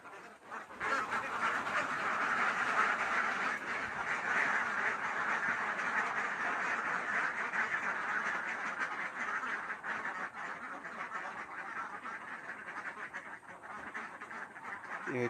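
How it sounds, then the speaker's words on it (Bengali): A flock of laying ducks, some black, some khaki and some silver, quacks steadily and busily nearby, overlapping calls forming a continuous chatter. "এ হচ্ছে আমার হাঁস।"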